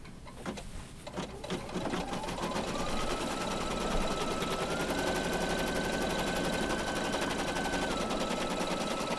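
An embroidery machine sewing a placement stitch for a center heart on an in-the-hoop Valentine placemat, a fast, even mechanical needle rattle that runs steadily and close after a few brief knocks at the start.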